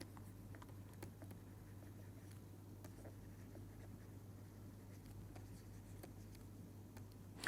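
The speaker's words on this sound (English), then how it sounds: "So, I will write that equation." Pen or chalk scratching out an equation by hand during a fluid and particle mechanics tutorial, faint irregular strokes and taps over a steady low hum, no talking.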